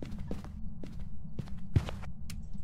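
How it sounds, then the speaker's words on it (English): Footsteps in the video game Phasmophobia, several distinct thuds spaced irregularly over a low ambient hum, fairly close and moderately loud. "I had a loud footstep behind me."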